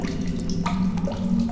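Fresh water runs steadily in the video game The Solus Project, a close, continuous splashing flow like a tap, with nothing else over it.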